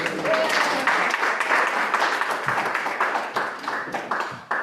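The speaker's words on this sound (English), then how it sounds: "Round of applause, please, again, for Chairman." An audience at a Black History Month cultural celebration applauds steadily for several seconds, a dense wash of many hands clapping close by with no talk over it.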